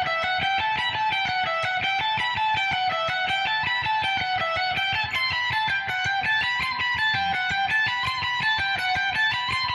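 Distorted electric guitar plays a solo slowly, a steady stream of picked notes in an even rhythm that rises and falls in pitch, loud and continuous with no talking.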